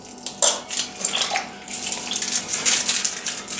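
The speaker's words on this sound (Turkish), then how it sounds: "Kremayı boşaltalım." Cream being poured out for a kazandibi pudding, a soft splashing liquid stream in short irregular bursts, close and fairly quiet.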